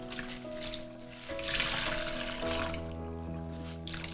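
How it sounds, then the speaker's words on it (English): Dyed Pima cotton being rinsed under running water, a steady close splashing flow with light sloshing as the fibres are handled, backed by a faint tonal hum. "now's the time that we need to rinse these"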